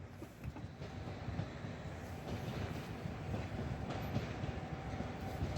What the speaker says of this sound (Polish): I wjeżdża Pilecki. Tak samo Pesa Dart.